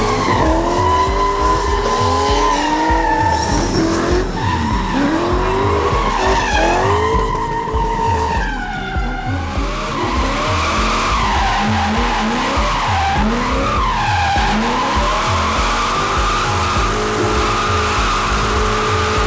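A rally car at the 2018 Máriapócs rally drives hard with tires squealing and skidding through corners, its engine revving and rising in pitch; loud and close, sustained throughout with no talk.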